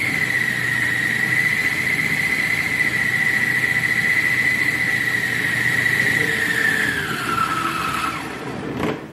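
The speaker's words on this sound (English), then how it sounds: "turn the main motor on" Main electric motor of an RC F3A aerobatic aeroplane spooling up on the ground, a loud steady high whine held for about seven seconds before the pitch drops and winds down, with no talking.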